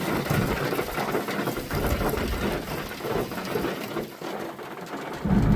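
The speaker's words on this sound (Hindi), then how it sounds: "बारिश हो रही है, थोड़ी धीमी हो गई है" Heavy rain pours steadily onto a road through a hilly forest, a dense, loud, unbroken hiss with low rumbling underneath and no voices.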